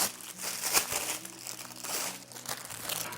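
Parchment paper crinkles and crumples in short bursts of crackling, close up and fairly quiet, with no talking.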